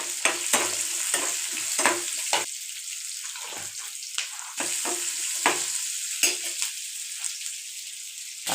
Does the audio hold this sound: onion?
yes